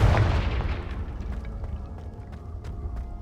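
Confringo explosive curse blast in Hogwarts Legacy: a sudden loud booming burst at the start that rolls off into a fading, rumbling tail with a few scattered crackles.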